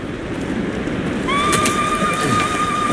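Horse in Ghost of Tsushima giving a clear, loud whinny partway through, with hooves clopping and rain pattering steadily underneath.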